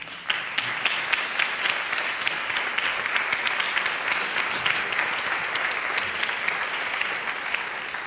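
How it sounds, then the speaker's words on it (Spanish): An audience at a Spanish theatre dialogue event bursts into sustained, even applause, dense clapping holding steady for the whole stretch without voices over it. "un aplauso para Morgoria"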